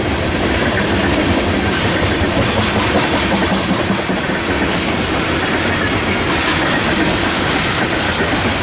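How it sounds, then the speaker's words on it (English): A freight ethanol train rolls past Fullerton station, its wheels clattering with a steady clickety-clack. The rumble stays loud and close, with no talk over it. "And here's the ethanol train in general."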